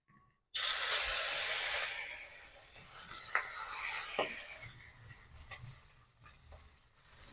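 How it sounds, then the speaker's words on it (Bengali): Bata fish drops into hot oil in a kadai with a sudden loud sizzling hiss that slowly settles into steady, softer frying crackle, with a few small pops and bubbles. "প্রথমে আমি বাটা মাছটা ভাজবো"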